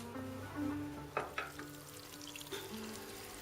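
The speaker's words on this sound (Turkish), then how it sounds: "Bir çorba kaşığı tereyağını bırakıyoruz. Biraz erimesi için bekliyoruz." A spoonful of butter melting in a pot on a stovetop, giving a faint, soft sizzle with a few light clinks of a utensil in a quiet kitchen.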